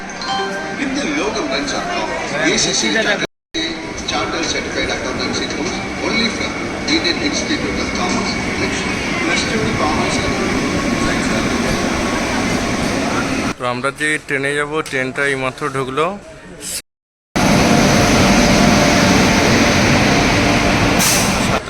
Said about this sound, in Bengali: বন্দে ভারত এক্সপ্রেস এই টিসু প্ল্যাটফর্মে দাঁড়িয়ে